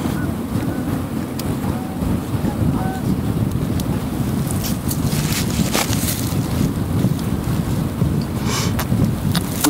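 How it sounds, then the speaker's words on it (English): Strong wind buffets the microphone outdoors beside a lake, a steady loud low rumble with gusty broadband roar throughout, no clear talk. "It's bad wind today. Bad to be outside."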